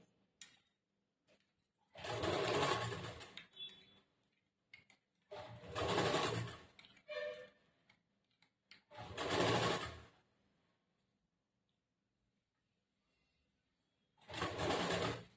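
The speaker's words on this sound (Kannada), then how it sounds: "ಇಲ್ಲಿ ಅರ್ಧ ಇಂಚ್ ಬಟ್ಟೆ ಬಿಟ್ಟೇವಲ್ಲ ಈ ಆಗಿ ಅರ್ಧ ಇಂಚ್ ಬಟ್ಟಿಗೆನೆ ಇಲ್ಲಿ ಸ್ಟಿಚ್ ಮಾಡ್ತಾ ಬರಬೇಕು" A sewing machine stitches a blouse sleeve with a half-inch seam allowance, four separate close, loud bursts of rapid whirring, each lasting a couple of seconds, broken by near silence and faint handling sounds.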